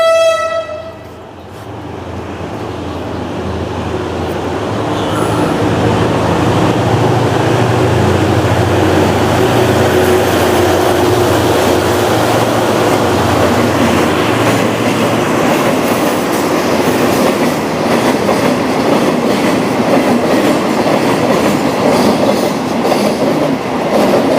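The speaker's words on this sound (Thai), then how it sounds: "โอ้ รถไฟมาท่านผู้ชม" A train approaches with a horn blast at the start, then rumbles past loudly with rhythmic clattering wheels that continue for the rest of the clip.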